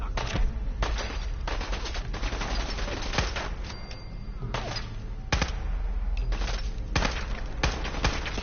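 Rapid video-game gunfire in a post-apocalyptic Fallout setting, with repeated sharp shots in quick bursts and volleys throughout, close and loud over a steady background.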